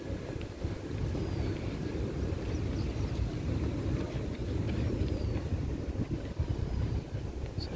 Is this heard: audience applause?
no